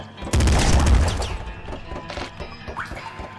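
Assault rifle fire in the video game Nuclear Throne: a loud, dense burst of rapid shots and crashing impacts opens the moment, then fades into scattered lighter hits and game effects.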